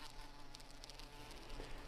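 A close, steady insect buzz, the droning wingbeat of a parasitoid braconid wasp in a 2020 creature short film, faint and continuous with no talk.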